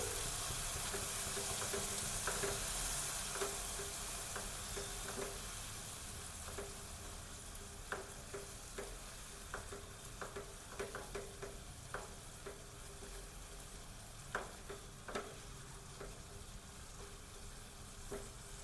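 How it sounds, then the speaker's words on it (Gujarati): Spices are stirred into bhindi masala gravy frying in a pan, a soft steady sizzle broken by frequent light scraping clicks of the spoon, close and quiet with no talking. "હવે આપણે બધા મસાલા એડ કરી દઈશું। તેને આપણે મિક્સ કરી લઈશું।"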